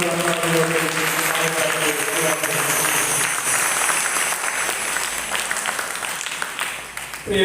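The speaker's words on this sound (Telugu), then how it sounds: "reverend father John Wilson father గారికి మరి గట్టిగా చప్పట్లు" A congregation at a Catholic shrine's 72nd feast novena applauds the priest, with broad, sustained clapping over faint tonal background sound and murmuring voices, dipping briefly near the end before rising again.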